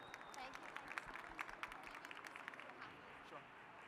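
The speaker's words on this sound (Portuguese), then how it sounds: "Uma salva de palmas para ele," Festival audience gives a speaker a round of applause, a faint, loose patter of individual claps with distinct hand strikes standing out, thinning toward the end.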